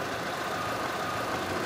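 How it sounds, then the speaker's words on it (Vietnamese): An idling car engine more than ten years old runs quietly with its air conditioning on, giving a steady, even hum close by with no voices. "Máy nổ rất là thì thầm, hiện tại là tụi em đang là nổ máy lạnh luôn ha"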